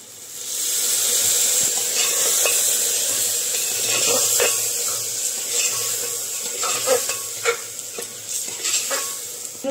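Water hits ground ginger frying in a cooking pan, setting off a loud, sustained hiss and sizzle close by that gradually settles, with spatula scrapes and clinks of stirring toward the end; no talking.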